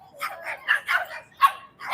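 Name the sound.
dogs barking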